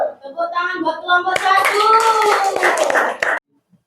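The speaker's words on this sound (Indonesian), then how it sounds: "Tepuk tangan buat kelompok" Children in a classroom break into applause for a presenting group: dense hand clapping and young voices rise together for a few seconds, then stop abruptly.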